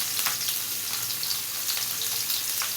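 Onion frying in hot oil in a pan during home cooking of a koi fish curry with okra, a steady close sizzle with faint stirring scrapes, constant and loud with no talk.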